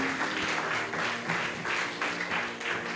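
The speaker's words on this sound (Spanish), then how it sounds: "¿Cuántos le dan esas palmas de alabanza a Jesús?" A church congregation claps in praise, a steady dense wash of many hands applauding together throughout, loud and continuous with no talk.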